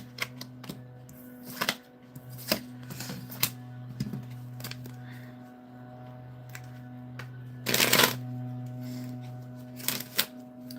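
Soft riffling bursts of cards being shuffled, repeated several times with a louder flurry near the end, over a steady low hum.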